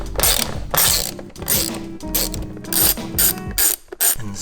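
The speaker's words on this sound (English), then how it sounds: "Remove the 3 bolts with the 8mm socket." An 8mm socket on a ratchet backing out speaker bolts inside a BMW, loud close bursts of rapid clicking in repeated strokes with brief pauses between them.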